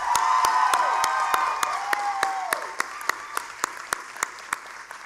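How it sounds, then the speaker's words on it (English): A commencement audience at a college graduation ceremony breaks into a loud, dense round of applause that thins out into scattered individual claps toward the end, with a few voices cheering amid it. "Let's give them a round of applause."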